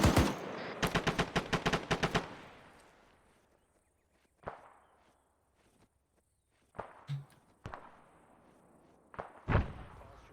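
Gunfire in Arma 3 during a forest engagement: a rapid automatic burst of about eight close, loud shots, then scattered single cracks and distant reports separated by quiet gaps.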